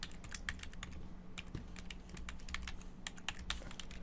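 Fast, irregular typing on a computer keyboard, crisp close key clicks in quick bursts with short pauses, fairly quiet over a faint steady hum.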